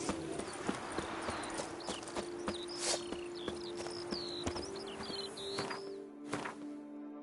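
Roach the horse in The Witcher 3 walks with a steady, close clip-clop of hooves, while a sustained musical drone and bright bird-like chirps play over the background.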